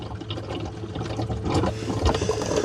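A Dreame X40 robot vacuum and mop base station empties dirty water with a continuous, gurgling rush of liquid and pump noise, fairly close and at moderate volume.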